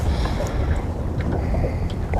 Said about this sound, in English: That wind is really kicking through there.